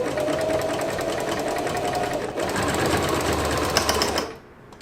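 A sewing machine stitches fabric for a T-shirt quilt in one continuous fast, close whirring run with a steady mechanical chatter, then stops abruptly near the end.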